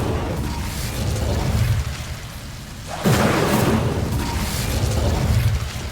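Confringo and Incendio spells exploding in Hogwarts Legacy, two loud booming blasts a second or so apart, the second a sharp burst followed by a sustained crackling, rumbling roar.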